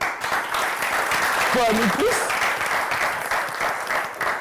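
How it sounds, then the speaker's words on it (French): An audience claps steadily throughout, a dense even wash of applause, with a brief voice speaking over it partway through. "On va les applaudir."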